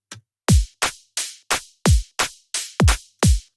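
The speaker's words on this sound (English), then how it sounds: "And then the drum loop together sounds like this." A punchy drum-and-bass drum loop of heavy kicks and sharp hits, about nine strikes in steady, slightly syncopated rhythm, loud and dry with nothing else playing.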